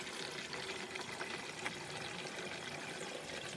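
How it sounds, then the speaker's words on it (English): Water pours steadily into a garden container on a patio, a continuous hissing, splashing rush that holds at an even level throughout with no talk. "You can see the water level coming up."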